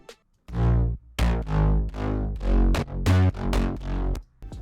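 Deep, gritty layered synth bass notes in future bounce style play in a series of separate sustained hits, thick and loud, with short gaps between them.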